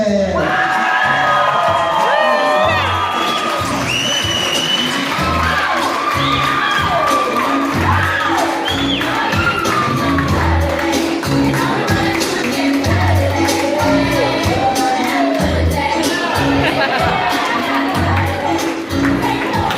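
Guests at a wedding reception cheer, whoop and shout loudly and continuously as the wedding party enters, a dense, boisterous crowd roar with pounding music beneath it.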